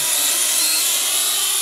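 A Syma X8C quadcopter drone in flight gives a loud, steady, high-pitched motor whine close to the microphone, with no talk.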